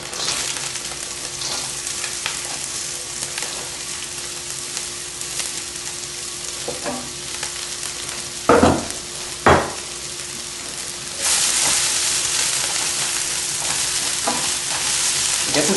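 Hard vegetables sizzle in hot oil in a stir-fry pan with a steady, close crackle. A couple of sharp utensil knocks come partway through, and then the frying rises to a louder hiss.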